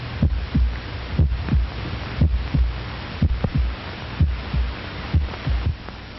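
A human heart thumps in a steady, slow lub-dub rhythm, each beat a close, muffled low double thud over a faint hum, repeating about a dozen times with no voices.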